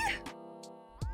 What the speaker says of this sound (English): I don't know if you can hear him meowing, but he's complaining.